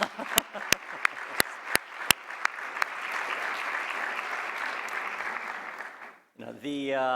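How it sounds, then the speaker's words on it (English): Sustained applause from a conference audience for a chancellor at a keynote, opening with a few sharp individual claps before swelling into a steady round that dies away just before a voice resumes. "Please, let's give him a round of applause."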